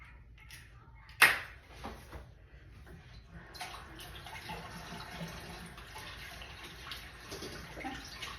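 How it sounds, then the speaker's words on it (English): Hands are washed under a running kitchen tap while a meatloaf is being made. A sharp knock comes first, then the tap pours as a steady, moderate hiss of water in a quiet room. "I will wash my hands."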